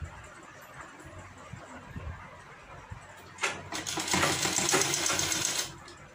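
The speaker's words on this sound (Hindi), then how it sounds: "और हमको इस तरह से सिलाई को चलाते जाना है।" Sewing machine stitching a half-collar kurti, a faint low background at first, then a close, steady burst of rapid stitching for about two seconds that stops.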